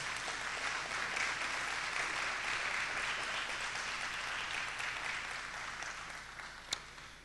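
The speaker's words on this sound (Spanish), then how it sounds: "Démosle ese fuerte aplauso al Señor" A church congregation applauding steadily, a broad wash of clapping that slowly tapers off, ending with a single sharp knock.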